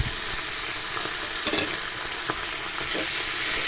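Mutton sautéing in oil with onion in a pot, a steady dense sizzle throughout with occasional stirring scrapes, fairly loud and close, no talking.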